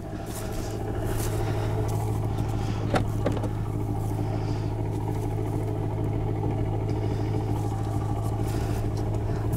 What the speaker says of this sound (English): And listen to that sound. This is in Sport Plus mode.